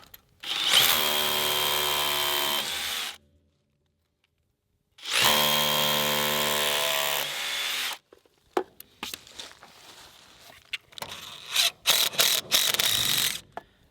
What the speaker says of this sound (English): I figure I might as well anchor this panel to the concrete, and I'm going to use the Tapcons that I've been using on everything else.